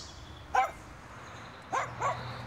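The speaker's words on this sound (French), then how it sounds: "Ah, un chien." A dog barks three times, short sharp yaps at a moderate distance: one, a pause, then two close together.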